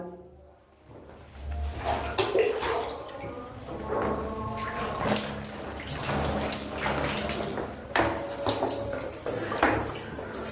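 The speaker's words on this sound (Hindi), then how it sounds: "तो देखिए 3 बार दाएं कंधे पर पानी डाला, 3 बार बाएं कंधे पर।" Water is poured from a vessel over the shoulders during ritual bathing, three times on each side. Repeated splashes and streaming water run for several seconds at close range, with faint background noise between pours.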